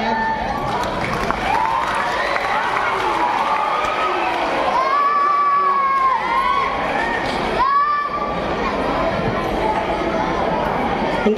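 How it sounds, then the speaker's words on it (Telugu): An audience at a free magic show roars with shouting, cheering and children's voices, with a loud, continuous crowd sound throughout and a performer talking over it. "క్లాప్స్."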